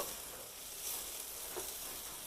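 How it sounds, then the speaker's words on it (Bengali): Onion frying in ghee gives a soft, steady sizzle throughout, faint and close, with no voices. "এই পেঁয়াজটা আমি ঘিয়ের মধ্যে ভেজে নিচ্ছি"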